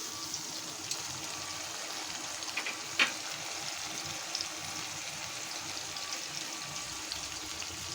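Spice paste with a splash of water frying steadily in a pan, a soft continuous sizzle and hiss with one brief clink of a utensil, fairly quiet and close with no voices.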